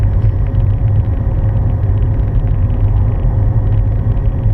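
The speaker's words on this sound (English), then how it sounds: "So just accelerating smoothly back up 30 and then to third gear." A car driving on a suburban Edinburgh road accelerates smoothly and shifts up into third gear, heard as a steady, loud low engine rumble from inside the cabin with no talking.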